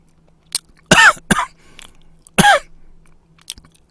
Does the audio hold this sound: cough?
yes